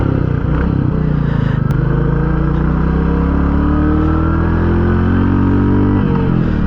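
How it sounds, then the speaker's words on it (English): A Royal Enfield Classic 350 single-cylinder motorcycle engine revs loudly and close by, its pitch rising steadily through a sustained run before dropping back near the end, with no talking. "at higher RPMs, this bike sounds exactly like any other single cylinder motorcycle"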